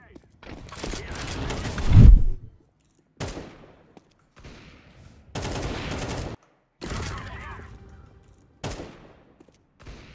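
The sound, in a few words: gunfire spraying in a shooter video game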